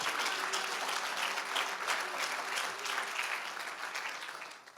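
A church congregation claps hands together in a steady, dense wash of applause that fills the room and fades slightly at the end.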